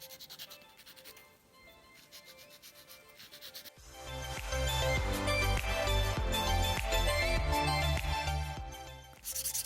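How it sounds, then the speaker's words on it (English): A nail file rubs along the edges of a fingernail during a dip powder manicure, giving close, steady rasping strokes that grow louder and denser after a quiet start. "I'm just gonna take a file, just kind of clean up the sides a little bit"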